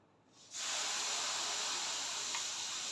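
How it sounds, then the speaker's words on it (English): Steam iron releasing a steady, loud hiss of steam while pressing fabric for a transparent appliqué petal design on a corset, starting abruptly and holding continuously, close up with no talk. "So I'm steam pressing it."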